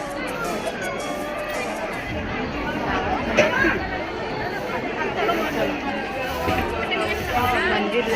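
Dense crowd chatter fills the busy Rajim temple fair, an unbroken babble of many overlapping voices at a steady, moderately loud level with no single speaker standing out.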